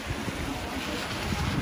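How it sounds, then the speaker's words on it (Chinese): Heavy typhoon rain pouring over an outdoor street, a steady dense wash of broadband noise with wind buffeting the microphone, continuous and loud throughout. "好大雨"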